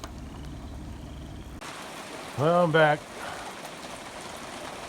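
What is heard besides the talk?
rain falling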